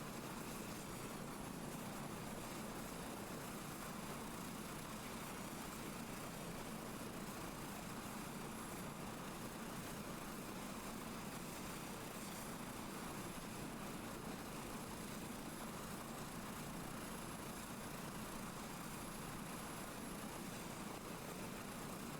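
Helicopter in a flight simulator game, a steady, faint, unbroken engine and rotor drone with no change in level throughout.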